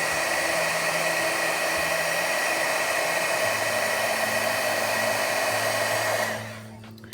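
A heat tool blows steadily while embossing powder melts on poinsettia card images, a loud continuous whirring hum that runs alone for about six seconds before cutting off and fading.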